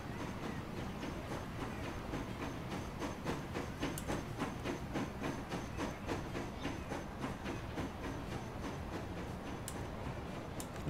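A new upgraded train pulls out of a station in the rail game Transport Fever, a steady rumbling roll with rhythmic clicking and faint hiss, continuous and fairly close, with no voices.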